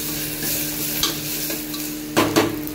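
Crushed ginger and garlic fry in a pan with a steady, even sizzle and an underlying hum, joined by a few spoon scrapes near the end, close and continuous with no talking.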